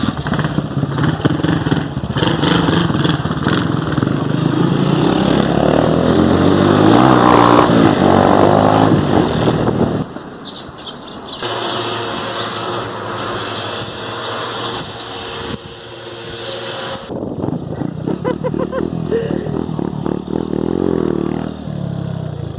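A motorcycle revs hard during wheelies on a Sunday ride, its engine roaring loud and close, dropping off and climbing again in repeated surges of throttle.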